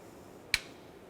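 Radiator mounting hardware clip on a 1997-2004 Dodge Dakota snapping into its self-locking position: one sharp, close click in an otherwise quiet moment.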